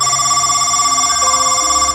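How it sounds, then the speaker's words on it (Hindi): An old telephone booth phone beside a deserted highway at night rings on its own, giving a loud, continuous electronic ringing tone that holds steady and close throughout. "उसी सुनसान हाईवे के किनारे एक पुराना टेलीफोन बूथ खड़ा था जो हर रात अपने आप बजने लगता था"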